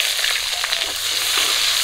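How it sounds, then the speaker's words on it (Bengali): Chopped onion and slit green chillies fry in oil already used for frying fish, potatoes and taro, giving a steady, loud, close sizzle that runs unbroken with no talk. "পেঁয়াজ আর কাঁচা লঙ্কা একটু ভাজা করে নেব"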